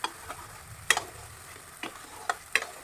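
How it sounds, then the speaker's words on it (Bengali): Stir-frying a paste of cashew, tomato and ginger in oil for a vegetarian paneer dish: faint background sizzle with a few sharp scrapes and clicks of a spoon against the pan, spread across a quiet stretch. "এটা এত সুন্দরভাবে নাড়াচাড়া করে এটাকে তেল যতক্ষণ না বার হচ্ছে ততক্ষণ করব"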